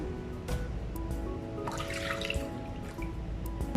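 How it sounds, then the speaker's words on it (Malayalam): Half a litre of fresh milk pours quietly into a pot, a soft, steady liquid trickle with faint splashing, close by and alone. "ഞാനൊരു പാത്രത്തിലേക്ക് 2 കപ്പ് പാലൊഴിച്ച് കൊടുക്കുകയാണ്"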